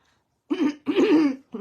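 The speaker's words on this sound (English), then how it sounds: "pardon me when I clear my throat" A person clears their throat in two or three rough, harsh bursts, close and fairly loud, with no talking.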